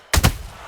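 A single heavy counter punch lands in the boxing video game Undisputed, a sharp close impact with a quick double thud that fades fast.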